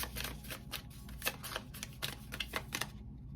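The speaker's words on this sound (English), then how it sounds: "we're just going to shuffle this way" A tarot card deck is shuffled by hand in a quiet room: a run of quick, crisp riffling snaps in irregular bursts, then silence.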